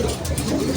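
Racing pigeons coo softly in a loft, a brief low burbling murmur close by with faint background noise.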